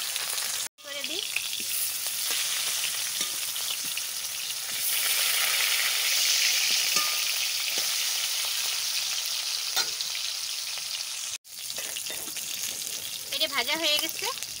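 Bangda fish heads frying in oil, with a loud close sizzle that swells when more pieces go in, cut by two brief silent breaks, with light scraping and a short vocal sound near the end.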